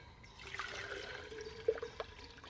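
Water pours into an enamelled stainless steel Petromax kettle, a soft continuous trickle and splash with a few brighter clinks near the end, fairly quiet and close, with no talking.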